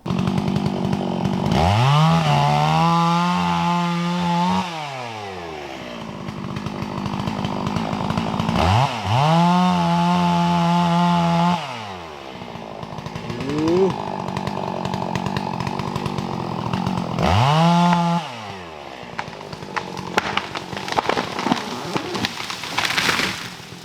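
A chainsaw felling a tree, its engine revving up and holding a steady loud whine three times with pauses between cuts, close by and running alone without talk.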